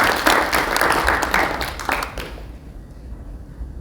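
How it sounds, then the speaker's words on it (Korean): An audience at an award ceremony claps loudly for about two seconds, a dense burst of many hands that quickly thins out and fades into quiet room tone. "뜨거운 박수 부탁드리겠습니다."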